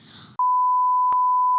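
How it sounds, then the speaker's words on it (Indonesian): A censor bleep rings out as a steady, loud pure tone lasting over a second, right after a short burst of speech in an Indonesian podcast conversation. "Itu bip, jangan lupa di bip."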